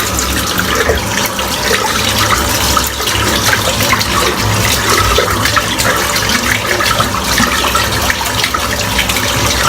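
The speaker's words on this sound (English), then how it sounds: "Going to rinse the brush out, which is absolutely caked full of lather" Warm tap water runs steadily over a lather-caked shaving brush being rinsed in a sink, a continuous, fairly loud splashing gush with no pauses and no voices.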